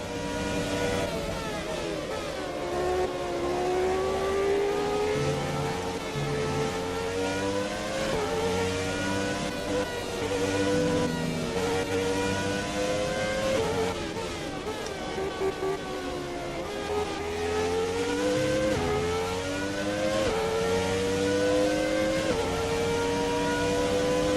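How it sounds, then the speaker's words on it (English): Racing engine of a 1992 Williams FW14B Formula One car in the F1 2017 video game, driven at Bahrain, holds a loud, continuous high-revving scream, rising and falling through gear changes and corners with no talk over it. "Let's just sit back and relax and listen to a bit of this 92 Williams here."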